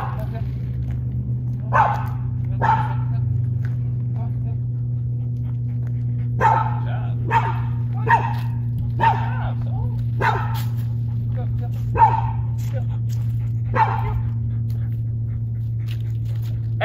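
A dog barks in short single and paired woofs spaced every second or two, moderately distant, over a constant low engine-like hum, with no talking.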